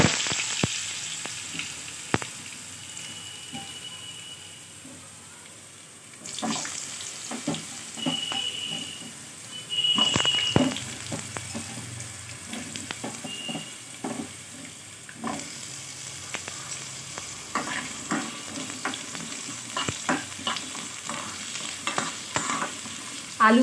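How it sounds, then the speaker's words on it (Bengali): Potatoes frying in hot oil, a continuous close sizzle broken by spoon stirs and scraping clinks, running steadily with no talking. "প্রথমে আলুগুলোকে আমি ফ্রাই করে নিচ্ছি"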